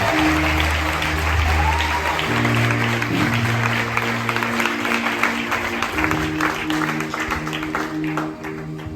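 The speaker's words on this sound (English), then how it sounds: "Clap your hands." A church congregation claps hands together during worship, a dense steady wash of clapping over sustained organ-like tones and background music, loud and continuous throughout.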